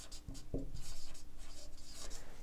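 A fraction is written by hand with a pen on paper, giving short, close scratching strokes and a few light taps in quick irregular bursts.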